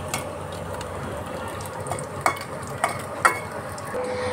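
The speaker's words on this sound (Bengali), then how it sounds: "গরম মশলা হিসেবে ফোড়ন দিলাম।" Cumin, small cardamom, cloves and a little cinnamon sizzle in hot oil as a tempering, a steady close crackle with a few sharp spoon-on-pan clinks from stirring and no voices.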